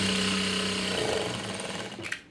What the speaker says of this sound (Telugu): ఇలాగా కరెక్ట్‌గా పెట్టేసుకుని స్ట్రెయిట్‌గా స్టిచ్ వేసేయండి.